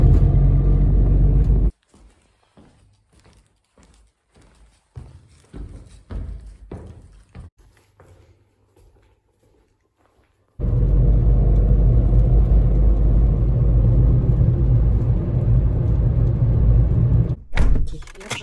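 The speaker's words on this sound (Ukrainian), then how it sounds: "пересіла в свою автівку, не хочу туди-сюди ходити, під'їду" Steady car engine and road rumble inside a moving vehicle, loud and continuous, preceded by a stretch of door clunks and handling knocks while the car is stationary, with a brief pause near the end.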